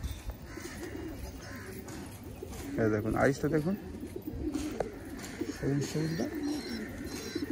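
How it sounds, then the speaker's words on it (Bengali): A Madras pigeon cooing close by, with several soft, throaty coo phrases in short bursts, while someone talks over and between the calls. "একদম খুব সুন্দর পায়রাটা।"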